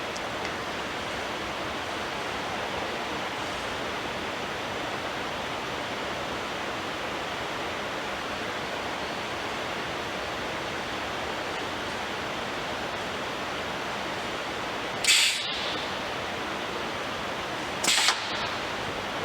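A plastic injection molding machine runs with a steady, loud broadband hiss and rumble throughout, broken by two brief sharp clicks near the end.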